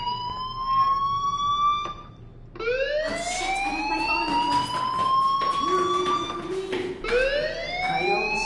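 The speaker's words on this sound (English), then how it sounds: "do you hear that fire alarm?" A fire alarm in the video game Life is Strange wails continuously, its rising whoops repeating loud and close for the whole stretch, with no voices.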